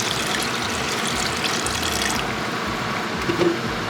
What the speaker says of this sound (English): Now that it's all coated and halfway cooked-ish, not really, I'm gonna add water.